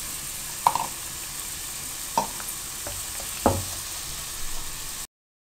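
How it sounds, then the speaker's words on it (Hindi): Potatoes frying in hot oil give off a steady, even sizzle, broken by a few sharp clanks of stirring at irregular moments. No voices are heard. "आलू अब फ्राई हो गए"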